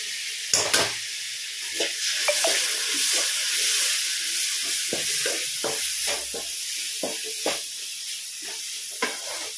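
Chopped tomatoes fry in a hot pan of oil for a Thrissur-style Onam sadya masala curry, with a loud, steady, close sizzle and hiss broken by scattered spatula clicks and stirring taps, and no talking.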